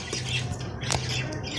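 Breeding pairs of pet lovebirds and cockatiels in an aviary setup squawk in sharp, loud overlapping calls, with a steady low hum beneath and no talk.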